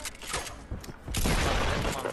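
Gunshots in Fortnite, a quick cluster of sharp crackling shots in the first second followed by a denser, louder burst of fire to the end, short and close.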